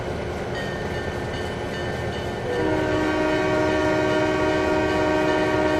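A locomotive horn in the Trainz 2022 railroad game blows at a whistle post, a long sustained chord that steps up louder midway over a continuous rumble of the moving train.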